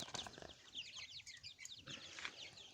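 Chickens clucking and chattering together at close range, with rustling and a few wing flaps among the flock.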